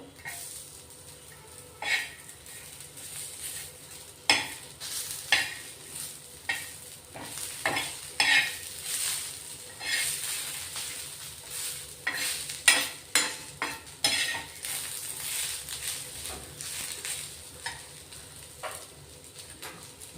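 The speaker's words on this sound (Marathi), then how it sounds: "तेही चांगलं भाजून घेणार आहेत आता" Garlic cloves, ginger pieces and dried coconut are roasted in a pan for a spicy chicken-mutton masala, with a steady soft sizzle under repeated sharp scraping stir strokes close by.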